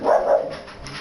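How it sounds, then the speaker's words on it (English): A dog barks indoors behind a sim-racing commentary session: one or two short, muffled barks at moderate distance, fading into quiet room noise, with no speech over them. "Excuse the dog."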